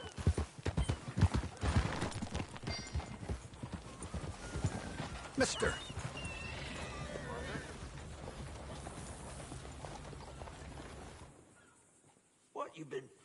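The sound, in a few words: horse hooves clip-clopping in a video game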